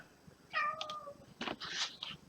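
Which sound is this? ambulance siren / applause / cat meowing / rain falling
cat meowing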